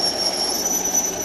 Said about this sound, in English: It says to make Thomas' train move, press the button on the end of the building.